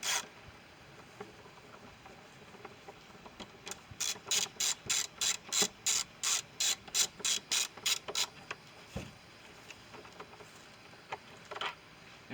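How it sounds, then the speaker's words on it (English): A ratchet on an extension loosening a bolt in the engine bay of a GMC Canyon 3.6, quiet shuffling, then a long even run of about fifteen sharp clicking pulls close to the mic, then a few scattered clicks; no talking. "ratchet and an extension. There's a bolt in that hole right there"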